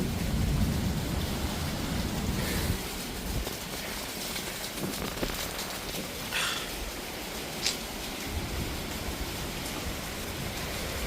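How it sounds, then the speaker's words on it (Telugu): A strong wind and rain storm roars as a loud, continuous broadband rush with heavy gusts, louder at first and then easing slightly, with scattered sharp rattles and bursts throughout. "చూడండి ఎంత గాలో"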